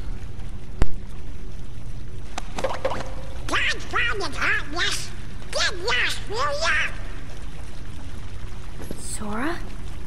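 Cartoonish duck quacks from the Kingdom Hearts Final Mix video game on PS4, a rapid burst of several nasal quacks in the middle and one more near the end, over steady game background noise with a sharp click early on.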